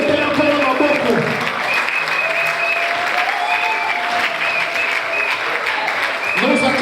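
A church congregation at a Sunday service applauding and acclaiming, loud sustained clapping from a crowd mixed with raised voices and cheering throughout.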